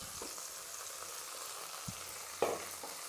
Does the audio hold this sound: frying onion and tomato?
yes